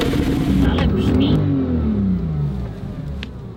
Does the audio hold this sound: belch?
no